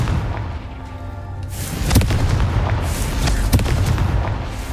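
Confringo fire spell exploding in a Harry Potter–style video game, a heavy booming blast that swells after a brief buildup, with rumbling crackles and sharp bursts continuing afterward.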